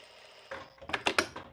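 A straight-stitch sewing machine runs on a sweatshirt in a short burst, giving a few quick, rhythmic mechanical pulses at close range.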